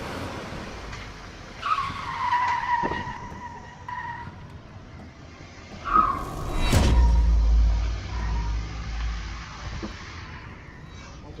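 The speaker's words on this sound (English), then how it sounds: "I heard a car." Tires squeal in a long skid, followed by a second screech and a heavy low thud, with engine rumble beneath in a game-like soundscape from the horror game Fear to Fathom: Home Alone.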